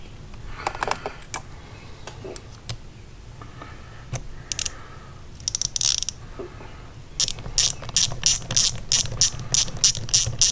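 A ratchet wrench clicks rapidly in short bursts, with scattered handling clatter first, then a steady series of loud, evenly spaced ratcheting strokes close by toward the end.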